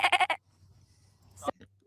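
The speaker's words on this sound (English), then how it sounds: "That was a sheep noise, I think." Three sheep bleats in quick succession open the clip, loud and close, followed by low background hum and a brief sharp noise near the end.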